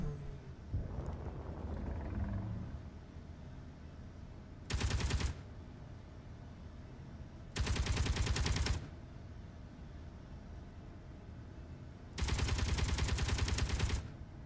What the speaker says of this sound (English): the Gatling gun does really good damage. It shreds everything